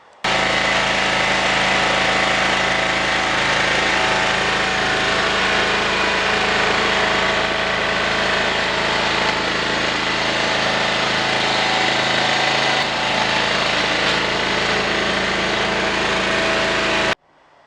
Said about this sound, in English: I'm just going to putt up and down the alley with the gravel rolling around inside that tank